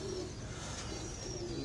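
Pigeons kept by a fancier at Bakkar Mandi coo softly and continuously, a low, steady murmur with no talk over it.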